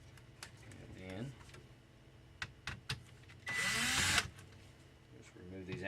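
Outer screws come out of a Dell Inspiron One 19 all-in-one computer during disassembly, with a short whirring burst between bouts of someone talking.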